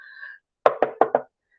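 Four quick, hollow knocks on wood in an even rhythm, close and distinct, after a faint tonal hum that fades out before them.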